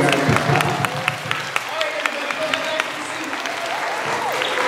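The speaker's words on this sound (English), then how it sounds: "Let's give him a big round of applause." Applause from a live show audience during a season finale broadcast, a steady wash of clapping sustained throughout with voices mixed in.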